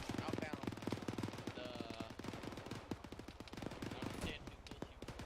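Gunfire during platoon training, with rapid outgoing rounds cracking in quick irregular bursts throughout, mixed with voices talking close by.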